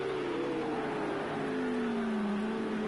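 Race cars accelerating in Project CARS 2 at the Nürburgring, engine notes rising and sweeping in pitch as the cars pull away, steady and fairly loud with no talk.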